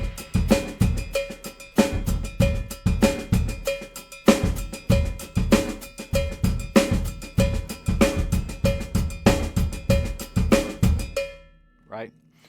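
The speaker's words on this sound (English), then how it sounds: "I'm playing a salsa bell pattern here, or a timba bell pattern on the cowbell" A cowbell beats out a steady syncopated salsa timba bell pattern, bright metallic hits repeating loudly and close for several bars before stopping abruptly.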